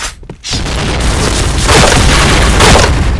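Grenade explosion in a shooter video game: a loud booming blast with a rolling, rumbling tail that stays heavy for several seconds after a short quiet gap.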